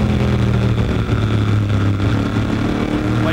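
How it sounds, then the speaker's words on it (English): A Dodge stock car racing at a short-track oval, its engine droning steadily and loud, dipping slightly as the driver lifts off the throttle and then building back as he gets back into it, with no talk over it. "you can hear Scott Steckley ease off the throttle and then ease back into it"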